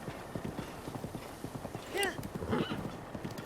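Horse hooves clip-clopping in rapid rhythm in the video game Breath of the Wild, with a whinny midway, while someone talks over it.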